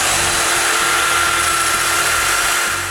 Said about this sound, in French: Maintenant, j'ai juste à percer tous les dominos, ces 2 montants.